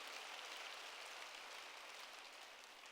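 Steady church congregation applause during a Sunday service, a dense wash of clapping that holds evenly for a few seconds, fairly distant and soft.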